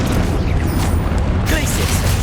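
A Confringo spell blasts in Hogwarts Legacy, a booming fiery burst within dense, continuous combat noise, with a character's voice shouting over the fight.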